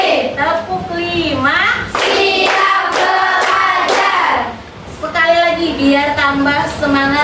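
Children in a classroom chant a numbered clapping routine led by a teacher, with bursts of sharp hand claps between loud call-and-response voices throughout.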